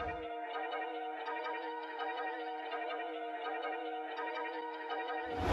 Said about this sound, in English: which is basically just a simple synth key or like a basic synth.